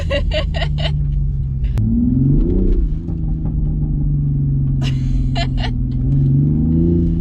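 A car engine rumbling deeply and revving up, pitch rising and falling, heard from inside the vehicle with some clicking sounds.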